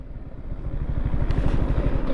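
A Yamaha R15M motorcycle runs at a low, throbbing idle near a tunnel, the pulsing engine loud and close for the whole moment, with no talking.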